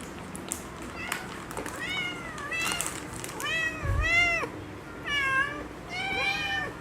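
Cats meow repeatedly for a treat indoors, a string of drawn-out rising and falling meows at moderate distance over a steady background hiss, with no voice talking.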